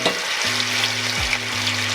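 Garlic frying in seasoned grease for fried chicken, a steady broadband sizzle that runs the whole time with a low hum under it. No voices.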